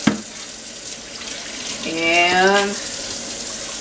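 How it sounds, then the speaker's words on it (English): Tap water runs into a kitchen sink as produce is rinsed for freezing, a close splashing rush that swells midway and then eases, with a brief spoken word at the start. "rinse it real well in water."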